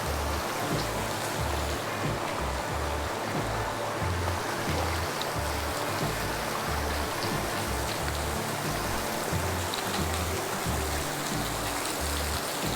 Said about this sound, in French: Wow, on a une petite cascade ici.